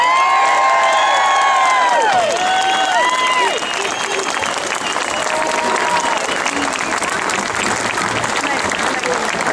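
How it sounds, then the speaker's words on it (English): A crowd at an outdoor rally to defend a monument breaks into loud, sustained applause with cheers and whoops, steady and close for nearly ten seconds, with excited shouting voices on top. "let's have a big round of applause, General SRAO."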